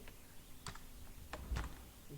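Computer keyboard keys click in a few sparse, separate presses, a quick shortcut tap of close key strikes with a light thud, with no talking.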